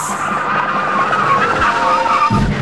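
Supercars braking hard from high speed, tires skidding and squealing loudly nearby with a rising screech and a low thump near the end.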